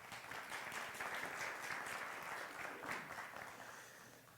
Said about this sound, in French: Est-ce qu'on peut applaudir Inès, s'il vous plaît